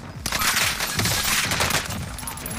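Video game gunfire, a dense and loud volley of rapid shots that starts abruptly and keeps going for several seconds before easing off a little.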